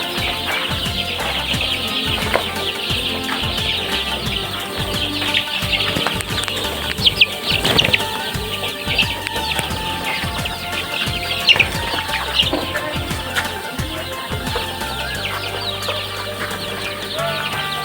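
A flock of layer hens on a poultry farm clucking and chattering continuously at close range, with occasional louder squawks over a busy, steady background of bird noise.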